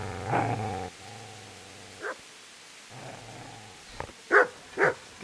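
A dog in the video game Kingdom Come: Deliverance growls low in two long stretches, then lets out several sharp, loud barks near the end.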